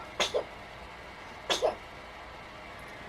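Two sharp sneezes about a second apart, close and fairly loud, against a quiet room background.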